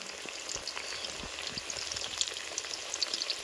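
Eggplant slices fry in hot oil with a steady, crackling sizzle, quiet and close, carrying on without pause and with no voices.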